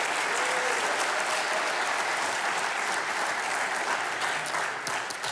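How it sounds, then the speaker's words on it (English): Audience applause for a guest on a live show, dense steady clapping from a large crowd throughout, loud and sustained before easing slightly at the end, without speech. "How about a big round of applause for Chuck Morales?"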